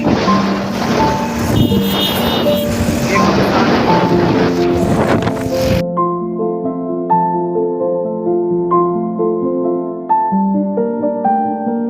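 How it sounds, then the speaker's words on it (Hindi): Cold wind blows outdoors and buffets the microphone with a steady, loud roar for the first half, then drops away as clear sustained music tones take over. "ठंडी हवा चल रही है"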